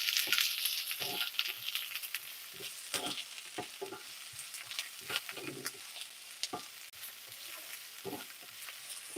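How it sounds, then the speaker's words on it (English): Chopped onion sautéing in grapeseed oil in a pan, a steady sizzle with frequent sharp stirring scrapes and clicks up close, no talking. "I'm gonna saute this just until it's nice and soft"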